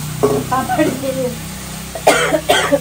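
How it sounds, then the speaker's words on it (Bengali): Someone coughs and clears their throat a few times from the pungent fumes of spices tempering in oil, over a faint sizzle of frying, with brief speech between the coughs. "ফোড়নের ঝাঁজে কাশি উঠে গেল।"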